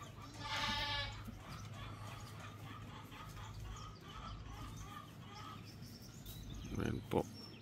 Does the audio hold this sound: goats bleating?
yes